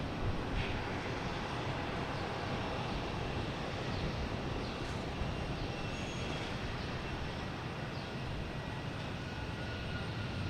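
A WestJet jet at Boston Logan heading to Vancouver gives a continuous broad engine rumble and roar that stays steady and fairly loud throughout, with no talk.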